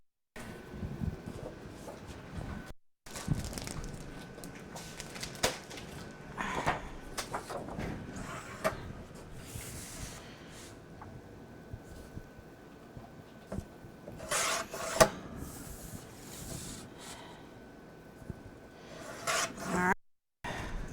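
Paper being cut for a scrapbook album, with scattered scraping and snipping sounds, small knocks and shuffles at close range, fairly quiet with pauses in between.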